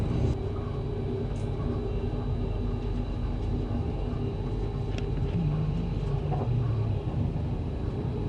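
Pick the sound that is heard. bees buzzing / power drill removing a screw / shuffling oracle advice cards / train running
train running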